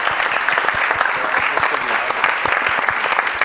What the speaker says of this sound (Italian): vogliamo fare un applauso a Greta.